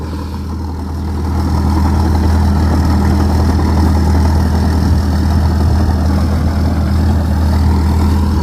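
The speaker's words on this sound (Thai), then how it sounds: "เนี่ยครับรถปั้นดินสองพันยี่สิบเอ็ด" Steady engine drone from a 2021 soil-tilling tractor working a field, a continuous loud low hum that swells slightly after the first second and then holds evenly with no talk.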